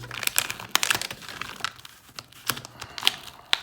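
A paper LEGO minifigure packet crinkles and crackles as it is opened by hand, giving close, sharp bursts of rustling in an irregular rhythm with brief pauses.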